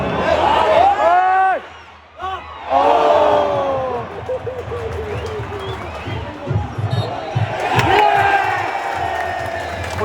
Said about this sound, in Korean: 무승부만 해도 기뻐하고 선수들에게 박수를 쳐주며 응원해주는 캠브리지 팬들